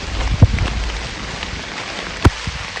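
Rain falling outdoors in a valley, a steady patter with two brief, sharper splashes or knocks standing out above it; no voices.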